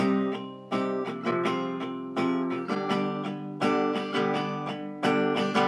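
Bright acoustic guitar chords strummed in a repeating rhythmic pattern, each stroke ringing out and decaying before the next, close and clear.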